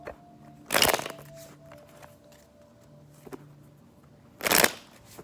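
Cards are shuffled in two quick riffling bursts a few seconds apart, with quiet handling sounds in between.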